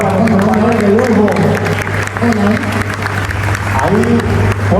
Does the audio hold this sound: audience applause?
yes